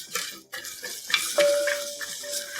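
Seasoned pork ribs browning in oil in a Corningware pot, a close, uneven sizzle with spoon stirring and clinking against the pot, plus a brief high tone partway through.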